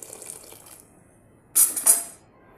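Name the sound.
pouring water into a cooking mixture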